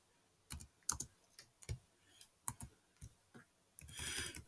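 Sparse keystrokes and clicks on a computer keyboard while copying and pasting, quiet separate taps in an irregular rhythm, ending in a short burst of faster typing.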